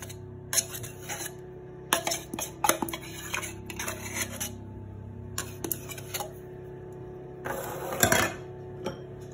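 A spoon or whisk clinks against a bowl while coconut flan batter of coconut milk and sweetened condensed milk is mixed, in short irregular bursts of scraping and tapping with pauses between, close by and with no voices.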